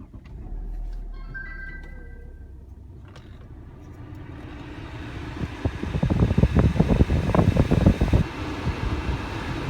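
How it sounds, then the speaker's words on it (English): Air conditioning fan in a 2009 right-hand-drive Volvo XC60 D5 runs as a steady broadband whoosh, quieter at first and then swelling louder and rougher through the second half, with no talking. "let's actually start the system up and let the air conditioning run for a few minutes"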